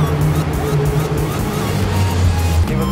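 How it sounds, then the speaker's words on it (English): Infiniti QX50 engine running as the car moves inside a private jet hangar, a steady deep rumble that stays fairly loud throughout with faint background murmur. "This car sounds good. It sounds really good."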